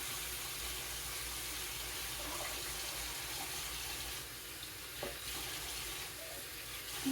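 Tap water runs in a steady, quiet hiss while jars are washed, with a faint clink or splash now and then and no talking.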